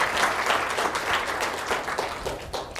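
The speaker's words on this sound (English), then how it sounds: "Please, let's give them a round of applause" An audience breaks into a full, dense round of applause, many hands clapping steadily and close for the whole stretch, with no talking over it.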